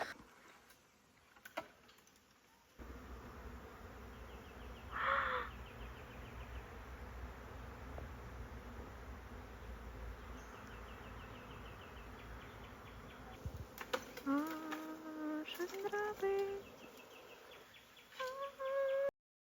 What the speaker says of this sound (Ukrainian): цей рішучий чоловік пішов ловити рій бджіл. Ви чуєте, який гул стоїть?